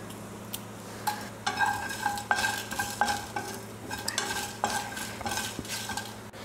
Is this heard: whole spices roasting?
yes